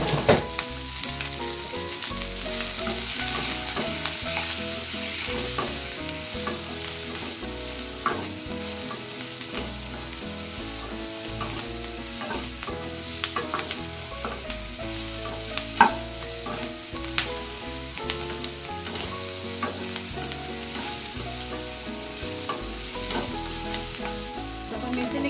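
Capsicum sabzi with turmeric powder frying and being stirred in a pan: steady loud sizzle with continual scraping and stirring, close up and without speech throughout.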